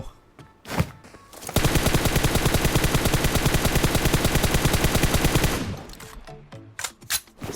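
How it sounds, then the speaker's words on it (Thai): A rifle fires in full-auto bursts in the mobile game PUBG Mobile: a loud, rapid, even string of shots lasting about four seconds, with a few single shots before and after. "เดี๋ยวผมจะลองยิงให้ดูนะครับ"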